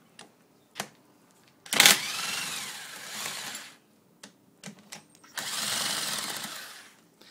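A power impact gun undoes the through bolts of a Ford Transit starter motor, two sustained rattling bursts of about a second or more each, interspersed with clicks and knocks of handling.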